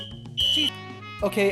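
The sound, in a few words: fire alarm blaring in an apartment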